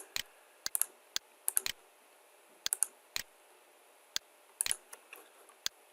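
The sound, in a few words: mouse clicking and keyboard key presses in Fusion 360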